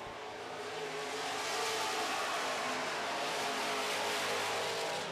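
Super stock race cars roar around a track in a close, continuous pack, their engines a loud sustained drone that swells slightly as they pass, with no voices.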